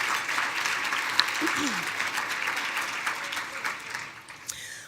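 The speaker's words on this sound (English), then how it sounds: "Big round of applause." A banquet crowd at a chamber of commerce annual dinner applauds the Kellogg Center staff, a broad even clapping that fades somewhat toward the end, with faint voices mixed in.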